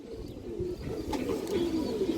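Pigeons at a Bengali pigeon seller's, soft low cooing that repeats in a gentle rolling pattern, fairly quiet and close, with no voices.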